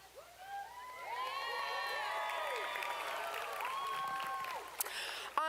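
Graduation ceremony audience at UT Southern applauding the class of 2026, a sustained wash of clapping and cheering with whoops and shouted voices, crowd noise filling the hall steadily before a sharp final burst.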